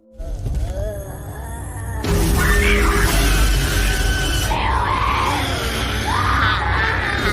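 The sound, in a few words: girl screaming hysterically in a film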